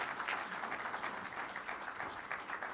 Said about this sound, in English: Everyone, a round of applause to Mumba Kalifungua.